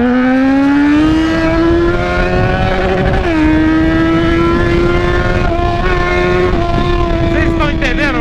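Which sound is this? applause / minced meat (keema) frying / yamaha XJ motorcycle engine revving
yamaha XJ motorcycle engine revving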